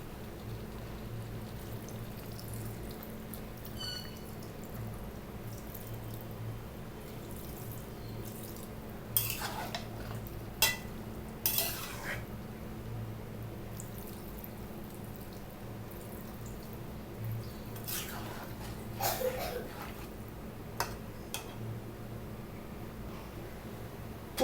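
Hot water goes into a pan of katla fish chorchori cooked with vegetables, a low steady simmering hiss broken by a few sharp splashes and clinks as it is stirred, quiet and close.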